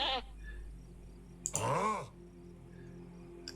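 Sheep bleat in the Animal Farm video game, one drawn-out, wavering bleat in the middle with a short bleat at the start, faint against quiet background game ambience.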